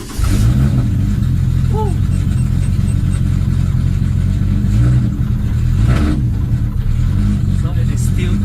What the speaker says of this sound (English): Alright, so I'm going to start the car.